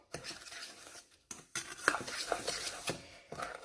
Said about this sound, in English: I have these 3 ingredients, and I'm going to mix it in my bowl